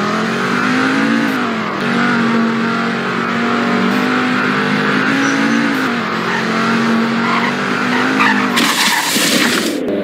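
A car in the Roblox game Greenville skids with long tire squeals over a droning engine, then crashes near the end with a sudden loud burst of noise.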